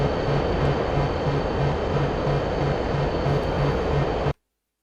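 A MiG-31K jet in DCS World flies at maximum speed at about 60,000 feet, giving a loud, steady broadband roar with a faint repeating low pulse that runs unbroken until it cuts off abruptly.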